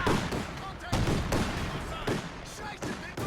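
Artillery barrage and gunfire in Company of Heroes 2 during a 2v2 match, with a suppressing barrage landing near a mortar half-track: repeated sharp blasts and rapid shots crackle in quick bursts, dense and close, over faint battle noise.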